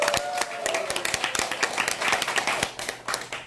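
Audience applause at a lecture on laughter coaching, a dense patter of many hands clapping at moderate volume with sharp individual claps standing out, steady throughout.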